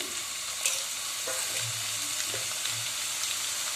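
Chopped onion fries in hot oil over cumin seeds for palak paneer, a steady sizzling hiss with occasional stirring scrapes and soft pops, no voices.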